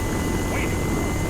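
Steady helicopter rotor and engine drone in the Arma 3 combat simulator, a broad continuous roar running throughout, with talk over it.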